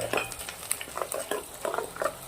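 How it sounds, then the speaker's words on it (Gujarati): Carrots, peas, onion and curry leaves sautéed in ghee: close, rhythmic spoon scrapes and stirring strokes over a soft sizzle, with no voices. "ગાજર, વટાણા, ડુંગળીને સરસ ઘીના અંદર સાતડી લેવાના છે"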